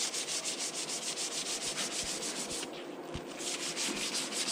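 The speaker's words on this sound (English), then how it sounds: "You just sand." Rhythmic back-and-forth rasping of 800-grit sandpaper on a sponge pad across Lambretta scooter bodywork, a steady close scrubbing stroke repeated about twice a second, with a brief pause midway and no talking.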